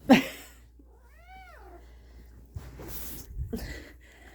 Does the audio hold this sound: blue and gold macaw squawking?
no